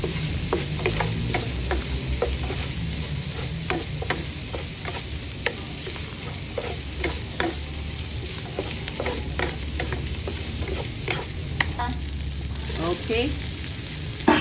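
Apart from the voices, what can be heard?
ground pork sautéing in a pan with soy sauce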